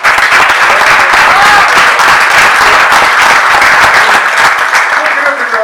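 Loud, dense applause fills a lecture hall at a Peronist philosophy class, many hands clapping steadily and evenly before tapering slightly at the close.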